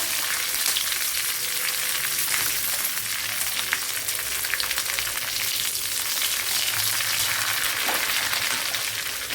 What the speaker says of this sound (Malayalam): ഇതിലേക്ക് കുറച്ച് കറിയില കൂടെ ഇട്ട് കൊടുക്കുക